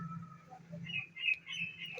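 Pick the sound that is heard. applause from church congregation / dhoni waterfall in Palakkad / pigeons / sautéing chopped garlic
pigeons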